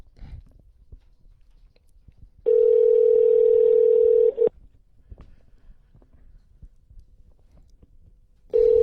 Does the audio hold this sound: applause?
no